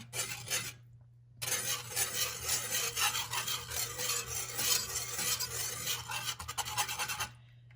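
A spoon stirring thickening white sauce in a pan for chicken, spinach and mushroom pasta, steady scraping and rasping strokes, close and fairly quiet, with one brief pause early on and a low hum underneath.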